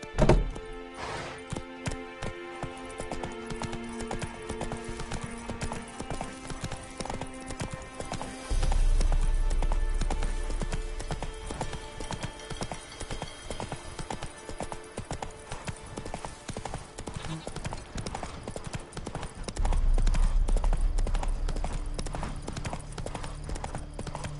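The horse Roach galloping in The Witcher 3, rapid continuous hoofbeats on hard ground with deep low thuds surging twice, steady and close throughout.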